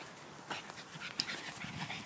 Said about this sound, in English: She's like a savage beast dog.